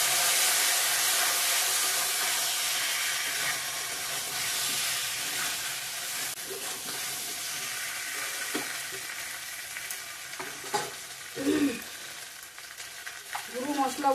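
Fried potatoes go into a chicken curry in hot oil, giving a loud broadband sizzle that eases slightly over time, with a few scraping stirs and clinks near the end.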